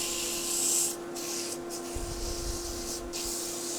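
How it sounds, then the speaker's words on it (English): Sandpaper of 100 grit rubbing against a turned wood spindle on a lathe, a steady close abrasive hiss with a few brief surges, heard alone over a constant extraction hum. "the 100 grit is the one that does most of the work"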